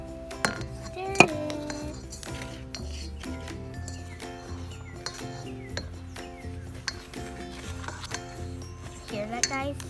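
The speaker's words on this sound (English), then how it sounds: "Stir it." A spoon stirs a dry mix of cornmeal, sugar and flour in a bowl, making close scraping and clinking knocks against the sides with a few sharper taps, while faint voices and background tones run beneath.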